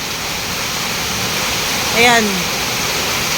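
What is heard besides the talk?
strong rushing floodwater during typhoon Aghon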